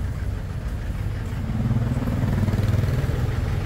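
Ford Everest engine with white smoke and a misfire, revved up from idle; a steady low rumble grows louder and rougher from about halfway through, close and alone.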